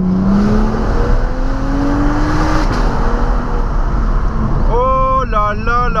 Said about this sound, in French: Écoutez-moi ça, elles sont à l'échappement, les gars.